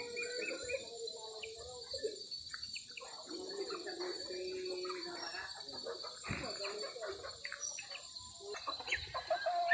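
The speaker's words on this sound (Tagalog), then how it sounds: "Ito yung mga ibang nakakulong na pabo. Tapos isang manok." Caged turkeys and a chicken in a backyard make faint, scattered clucks and coos, with crickets chirping steadily and a person talking over them.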